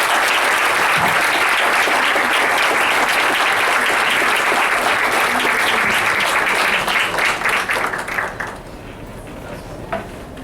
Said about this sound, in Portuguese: acho que o aplauso é para ele e para vocês também